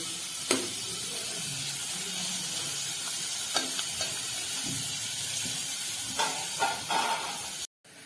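Finely chopped onion fries in a pan until reddish, giving a steady, loud sizzle with occasional stirring scrapes and clinks throughout.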